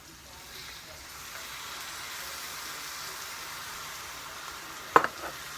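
Chili being added to sausage frying in a pan for a sausage and shrimp creole, a steady soft sizzle that swells slightly, with a brief sharp clatter near the end.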